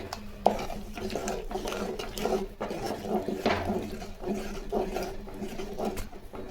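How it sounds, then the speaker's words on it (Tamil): Ground coconut and green chilli paste stirred into a pot with a spoon, giving repeated scraping, clinking strokes against the metal in an even rhythm, close and moderately loud, with no talk. "நம்ம அரைச்சி வச்ச தேங்காய் பச்சை மிளகா அதே ஊற்றி நல்லா கலக்கிங்க"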